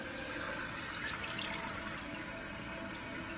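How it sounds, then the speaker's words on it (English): A toilet tank refilling after the flapper chain was adjusted and the water turned back on, a steady even hiss of rushing water running close by without pause. "Let the tank fill up."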